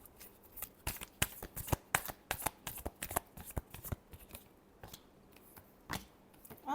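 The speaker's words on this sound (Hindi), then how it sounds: "Last shuffle." Tarot cards are shuffled by hand in quick, crisp riffles and flicks. The snaps come in an irregular rhythm, close and fairly soft, with no voice over them.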